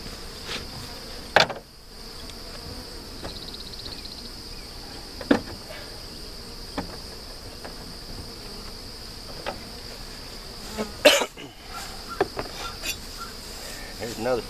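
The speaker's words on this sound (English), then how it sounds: "We'll shake these bees off." Honeybees buzzing around honey frames pulled from a hive, a faint, constant high hum with occasional soft knocks and bumps nearby.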